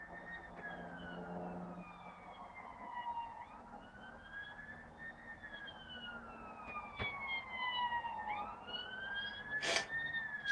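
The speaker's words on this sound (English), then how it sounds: "It's going to be an ambulance, isn't it?" An ambulance siren wails faintly in the distance as it passes outside a house, its rising and falling tone sweeping repeatedly over a quiet background.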